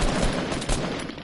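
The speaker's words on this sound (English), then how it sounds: "They're shooting at me." Rapid, dense video game gunfire rattles continuously in a shooter match, loud volleys blurring together into a constant crackling barrage.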